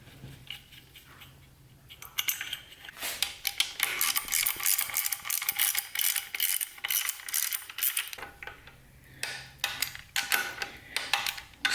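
Metallic clicking of a ratchet tightening the servo cover bolts on a TH400 transmission, dense bursts of rapid ratcheting with brief pauses in between, close and fairly loud, with no talking.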